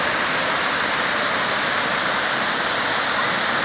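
Water rushes over the overflowing Pedra Lavrada dam near the Zé de Bastos bridge in Jardim do Seridó, a loud, dense, unbroken roar of falling water heard close by.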